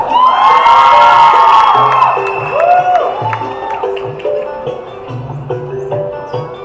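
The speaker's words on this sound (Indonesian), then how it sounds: "Bergegar di tempat ini dengan teriakan" A large crowd at a paddling boat race semi-final cheers and shouts loudly, with whoops and children's cries, peaking early and then easing a little while staying lively throughout.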